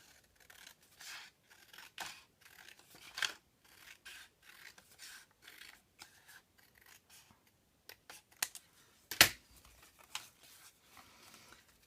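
Scissors snip through paper for a Harry Potter Hogwarts advent calendar craft, a run of soft close cuts and rustles with one sharper, louder snip near the end.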